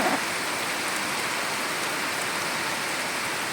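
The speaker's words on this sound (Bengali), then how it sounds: "মুষলধারে বৃষ্টি এসেছে, দেখো" Heavy torrential rain pours down in a dense, continuous roar of hissing drops with no pauses, close and loud throughout.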